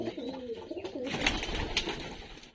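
Pigeons coo softly in a pigeon loft, with a few overlapping low throaty calls rising and falling close by for a couple of seconds, with no talking.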